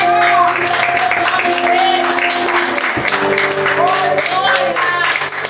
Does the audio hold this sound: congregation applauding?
yes